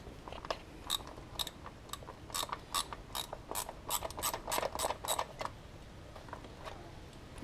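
A ratchet wrench backs out a 10mm bolt holding the wiring harness and coolant crossover bar in a Mercedes coupe engine bay, giving rapid close clicking strokes in uneven bursts, with no talking.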